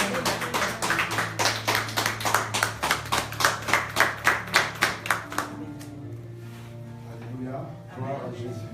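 A church congregation claps in unison to welcome a speaker, with about twenty sharp, evenly spaced claps under singing voices, then the clapping stops and a voice carries on alone.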